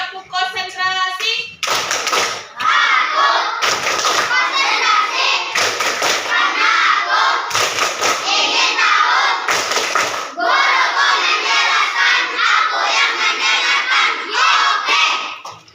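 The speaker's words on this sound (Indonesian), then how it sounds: "Selanjutnya tepuk konsentrasi." Children perform a rhythmic concentration clapping pattern in a classroom, loud bursts of claps broken by short pauses and shouted responses, with voices chanting along throughout.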